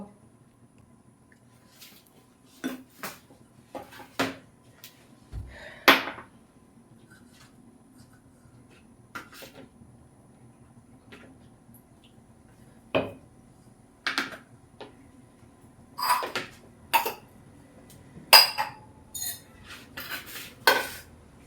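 Jackfruit being prepared in a home kitchen: the rind, fibrous strands and seeds are removed, giving sparse knife taps and clinks of metal utensils against a bowl and pans, irregular and close in an otherwise quiet room.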